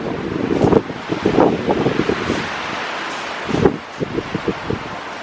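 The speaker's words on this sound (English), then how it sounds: "The wind." Gusty outdoor wind in Hawaii rushes and buffets the microphone in uneven surges, with rustling bursts rising and falling over about five seconds and no talking.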